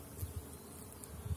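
A black bee buzzes close by in a low, steady drone that swells and fades slightly as it moves around, near flowering willow in early April.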